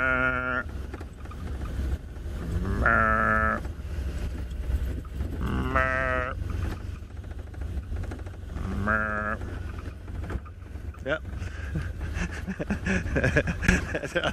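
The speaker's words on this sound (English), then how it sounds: "They're all mooing around, all vocalizing around the side." An African buffalo herd on safari calls while on the move, with three drawn-out, mooing bellows spaced a few seconds apart over a steady low rumble of background noise.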